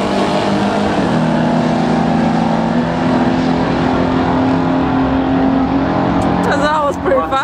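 An old Ford Mustang makes a drag racing pass at 119 mph, its engine holding a loud, sustained droning howl close by, with a person talking briefly near the end.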